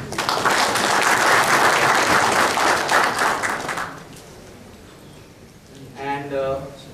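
An audience at the doppa17 testing and DevOps conference in India breaks into loud applause that lasts about four seconds, then fades out before a voice starts speaking.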